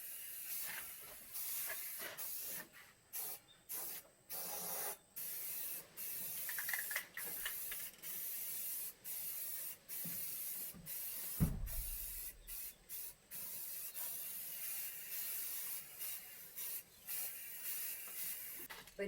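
Spray paint from an aerosol can hisses onto a metal planter in repeated bursts of varying length separated by brief pauses, close and fairly quiet.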